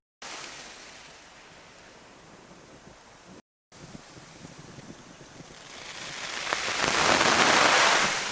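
Sprinkler water sprays onto a Kelty backpacking tent in a hiss like rain, steady at first, then swelling louder and closer toward the end after a brief gap.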